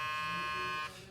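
A steady electric buzzing hum from an Instinct hair clipper drones close by, then abruptly cuts off and drops to a lower rumble.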